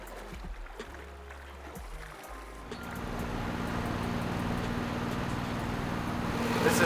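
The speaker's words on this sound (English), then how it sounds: "cruising along on the boat within this cave." After a quieter start, a boat engine settles into a steady, rumbling drone that grows slightly louder, echoing inside a cave in Laos.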